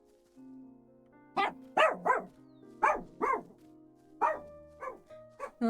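A little dog barks in a series of sharp, close yips and bow-wows, spaced in irregular bursts over a quiet humming background, with no talking.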